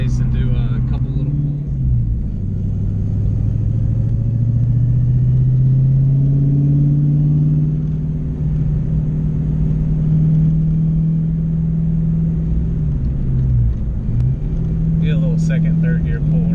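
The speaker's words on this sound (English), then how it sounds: "Second, third gear pull right here." Ford SN95 Mustang engine pulling hard through second and third gear, a loud, close, steady rumble rising in pitch, dipping briefly at the shift, then climbing again before easing off.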